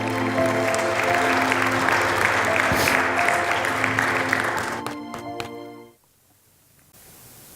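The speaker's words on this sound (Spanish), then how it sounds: "Un aplauso." Applause at a Spanish-language church service fills most of the span over sustained musical tones, then cuts to near silence.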